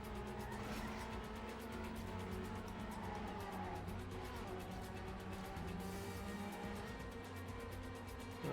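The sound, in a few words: car drifting in a video game racing game (TrackMania United)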